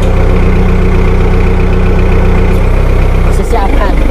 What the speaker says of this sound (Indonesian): Forklift.